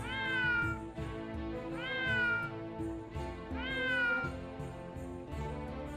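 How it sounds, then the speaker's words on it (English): A cat meows in the video game Triangle Strategy, calling three times in a low, drawn-out voice over a busy, continuous game soundscape. "They have different meows here too, very, very low."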